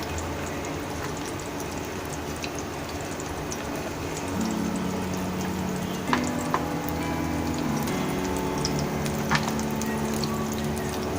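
Two onions frying in a pot for a chicken biryani give off a steady, soft sizzle with faint crackles throughout, and a low hum comes in partway through.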